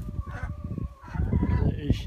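Chickens and Muscovy ducks in a wet, windy farmyard cluck and crow in a busy overlapping chorus, close and fairly loud, with a voice briefly mixed in.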